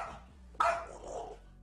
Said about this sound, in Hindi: ये कुत्ता बड़े गुस्से में इस बिल्ली पर भौंक रहा